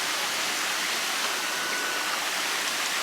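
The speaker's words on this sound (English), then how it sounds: "Water coming off the rocks right there into the pool." Water cascading off rocks into a resort pool at Disney's Wilderness Lodge, a steady, dense rushing splash that fills the scene evenly and close by, with no voices.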